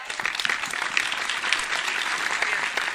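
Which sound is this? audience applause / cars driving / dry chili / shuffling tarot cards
audience applause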